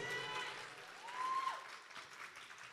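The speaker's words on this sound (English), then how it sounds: "They deserve a nice round of applause." Faint audience applause at a children's school show featuring a wedding dance, a soft distant patter of clapping with a thin tonal sound running through it.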